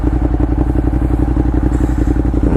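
Ducati Monster motorcycle under way, a loud, close engine with a rapid, lumpy pulsing beat and rattly clatter, steady throughout with no talk.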